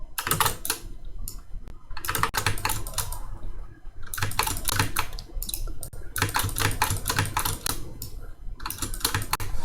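Fast typing on a computer keyboard while entering CAD commands, with dense bursts of clicking keystrokes in steady runs broken by brief pauses, close and clear with no talking.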